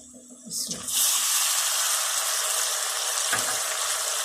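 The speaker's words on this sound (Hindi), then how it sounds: "अब मैं हल्का सा पानी डालने लगी हूँ।" A quiet pan of light golden onion paste suddenly erupts into loud sizzling as water is poured in, then settles into a steady, bubbling hiss of frying.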